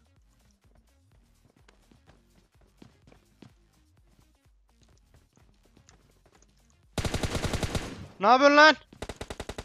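Gunfire in PUBG Mobile, heard after a long quiet stretch of faint footsteps: a loud automatic burst of rapid shots, a rising whine, then another short burst, with someone speaking briefly.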